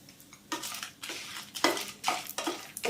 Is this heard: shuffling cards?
no